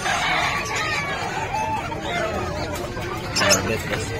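A hen clucks at a busy pet market in Bocaue, its short calls rising over a constant wash of crowd babble and nearby talk.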